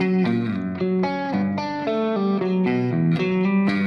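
A distorted, effects-laden riff plays continuously, shifting through sustained chords in a steady rhythm. It is loud and close, with no voices.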